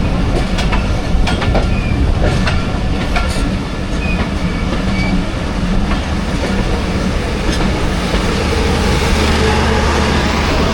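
The Jaffar Express passenger train runs loudly on the line from Attock to Rawalpindi, moving from a loop line onto the main line, with a constant heavy rumble, rhythmic wheel clatter and occasional faint squeals; no voices are heard.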